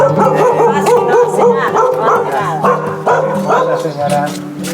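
Small dog barking in repeated yips close by on a farm, mixed in with ongoing conversation between people.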